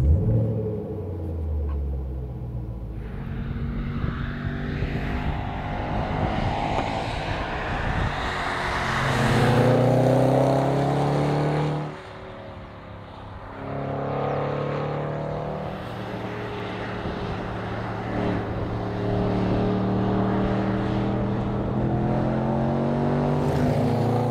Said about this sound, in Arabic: خلينا نطلع نفرجيكم شوية تسويقة ممتعة على متن الرينج روفر سبورت اس بي ار يلا خلينا ندور السيارة